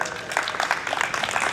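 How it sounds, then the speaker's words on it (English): A convention audience applauds after a speech, a dense, steady wash of many hands clapping together from across a hall. "A round of applause for that."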